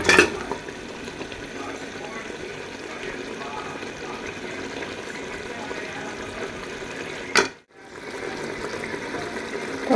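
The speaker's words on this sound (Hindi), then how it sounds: "अच्छे से भुनाई करेंगे।" Tomato sautéing with mutton paya masala in a pan gives a steady, dense sizzle and stirring noise that runs throughout, cutting out briefly near the end before resuming.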